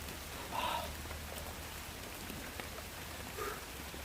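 Steady rain falling, a soft continuous hiss with a few faint brighter bursts, no talking.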